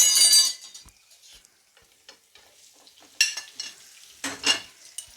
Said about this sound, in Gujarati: એને સારી રીતે ચલાવી લેવાના મસાલો બધો ચડી જાય એવી રીતે